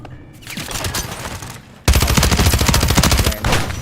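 Call of Duty video game gunfire: scattered shots at first, then after a pause a loud, sustained burst of rapid automatic fire, close and intense, ending in a brief lull.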